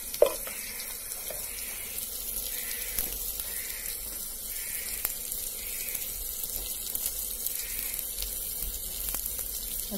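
Chilli, turmeric and coriander powders frying in a pan for rajma curry, a continuous broad hiss and sizzle with faint scraping from stirring, steady and close throughout with no talk.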